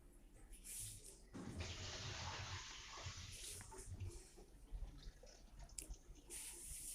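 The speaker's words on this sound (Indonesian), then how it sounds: "kita buang dulu ya airnya" Collected water is poured out of the drain tray of an LG two-door refrigerator, a close splashing gush that runs for a few seconds and then trickles off, with faint voices around it.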